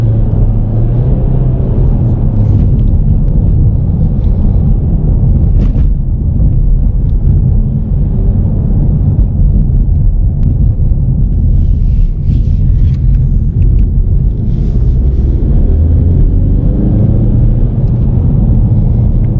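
A 2019 Ford Mustang EcoBoost pulls hard under acceleration, heard from inside the car as a loud, sustained engine drone with road rumble and wind noise throughout.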